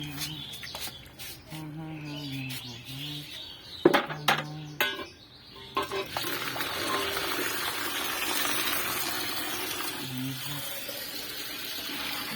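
Water poured onto tiles in an outdoor garden plot, a steady splashing gush that builds and continues for several seconds, with voices talking over the earlier part.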